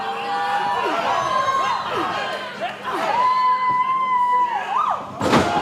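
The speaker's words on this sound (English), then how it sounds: "Listen to this crowd." Crowd at a women's pro wrestling show in Houston cheering and whooping, with rising and falling shouts and a sharp thud near the end, under a live commentator's voice.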